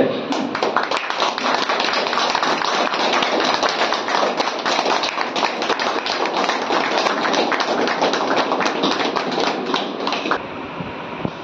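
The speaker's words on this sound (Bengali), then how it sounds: "সবাই একটু হাততালি।" An audience applauds at a fish vendors' union poster unveiling in Purba Medinipur. The clapping is loud, dense and steady, continues for about ten seconds, then thins slightly at the end.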